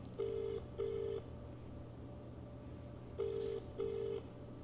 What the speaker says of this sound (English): Oh, wait, it's calling her.